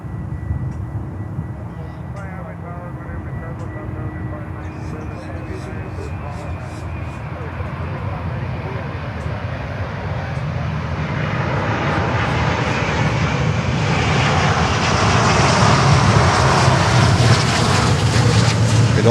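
Virgin airliner on runway 9 at Miami airport, its jet engines roaring and swelling steadily louder as it powers up, a broad rushing roar building over the distance; a person talks faintly early on.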